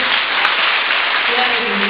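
A church congregation applauding, a dense, even wash of clapping that holds steady and loud throughout.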